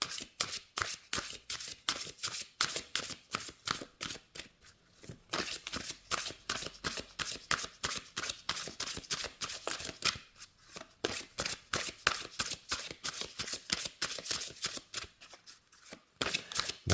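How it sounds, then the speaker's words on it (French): Lenormand oracle cards shuffled by hand in a steady run of crisp, rapid riffling slaps and flutters, close and fairly loud, with brief pauses between bursts and no talking. "les cartes se mélangent très très bien. Elles ne collent pas entre elles."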